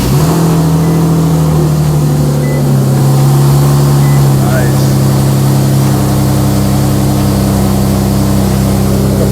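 Turbocharged Nissan G37 engine idling loudly up close after starting, a steady low drone with a brief rise in pitch partway through, continuous and unbroken.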